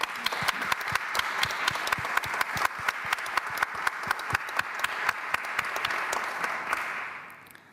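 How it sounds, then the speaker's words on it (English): Audience applause at the Transatlantic Summit IV in Budapest, a steady wash of many hands clapping with sharp individual claps standing out, sustained throughout before tapering off at the end. "So I want to ask for an applause for all our..."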